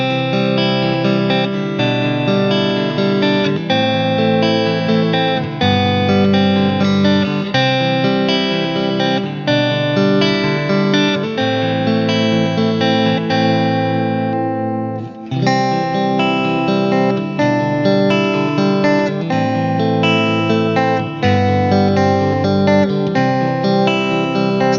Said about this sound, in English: here's the guitar with a clean finger picking sound